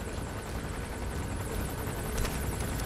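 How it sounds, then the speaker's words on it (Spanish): Helicopter rotor chop and engine drone from the video game Metal Gear Solid V: The Phantom Pain, a steady, moderately faint whir holding evenly for about three seconds with no speech. "Aquí, el helicóptero,"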